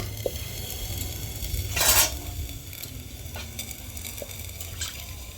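Chitoi pitha batter cooks in a pan with a soft, steady sizzle and faint bubbling, a brief louder splash near the middle, and a few small clicks of handling.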